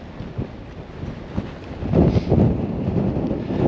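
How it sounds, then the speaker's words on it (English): Strong wind gusting across open moorland near Princetown, roaring and buffeting against the microphone with a steady rumbling base that swells louder partway through, no voices. "the wind's really driving in from my left, really pushing me"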